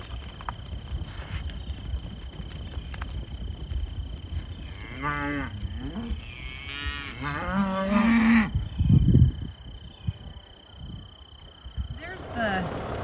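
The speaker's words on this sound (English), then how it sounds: "The cows went in for breakfast, and now they're coming back out again." Cows return from breakfast on a farm in Ontario, giving several drawn-out moos at middle distance over steady outdoor background noise, with a person talking nearby.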